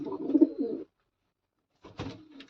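A small white female pigeon gives a soft, low coo up close, a short throaty burst followed by a pause and a second brief coo.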